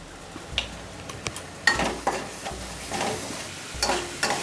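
Cabbage and red lentil mixture with a little sugar being sautéed in a pan, a soft sizzle punctuated by irregular scrapes and clinks of stirring, close and moderately loud.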